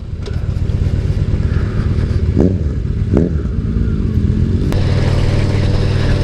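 Motorbike engine revving in short bursts during a failed wheelie attempt on the Tour de l'Île ride in L'Île-Bizard, with a steady loud engine drone and a few sharp throttle blips.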